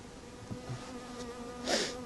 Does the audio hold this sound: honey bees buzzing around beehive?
yes